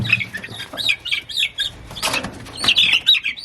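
Chicks flap their wings inside a brooder in a few short fluttering bursts, close by, with high chirps and peeps scattered throughout and no talking.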